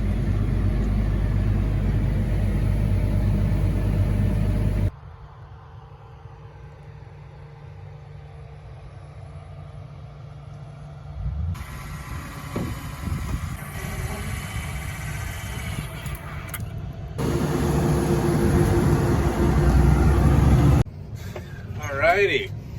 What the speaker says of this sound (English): we're in the combine now, and we're gonna take it home